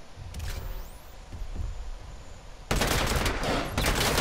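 Gunfire in the video game Predator: Hunting Grounds: a few scattered shots, then a sustained, loud, dense burst of rapid automatic fire filling the last seconds.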